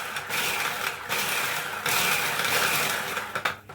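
A Bosch hand blender whirring through mango juice in a kitchen, a loud continuous buzzing drone with short pauses as it cuts out and restarts.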